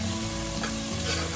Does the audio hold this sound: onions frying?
yes